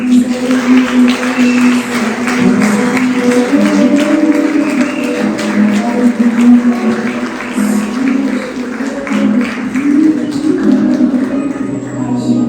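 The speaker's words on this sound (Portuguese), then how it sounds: "Você pode aplaudir o Senhor Jesus" A church congregation applauds at length, many hands clapping in a steady, dense patter, mixed with sustained voices or music underneath throughout.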